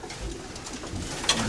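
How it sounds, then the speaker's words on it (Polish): Red crossbred pigeons cooing in a loft, soft low calls over a quiet room hum with a brief sharper sound near the end. "tutaj te gołębie czerwone"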